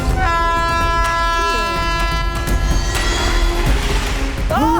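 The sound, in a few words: passenger train approaching on the track, from a movie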